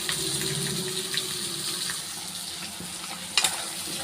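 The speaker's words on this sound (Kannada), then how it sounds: "ನೋಡಿ ಇಲ್ಲಿ ಬಾಯ್ಲ್ ಆಗ್ತಾ ಇದೆ" Pea gravy bubbles and boils in a pan, a continuous close simmering hiss with soft plopping, a sharp clink near the end and no talking.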